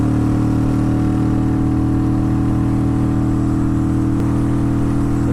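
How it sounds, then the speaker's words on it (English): Kawasaki Vulcan 800 motorcycle engine under steady throttle while riding toward highway speed, a continuous close droning hum with wind noise and no talk. "joys of riding a motorcycle. You can see that we'll hit highway speeds before we even get on the on-ramp"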